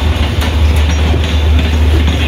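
A local train rumbles past close by near the Sealdah car shed in Kolkata, a steady loud roll of wheels and carriages with faint clickety-clack throughout, and no voices.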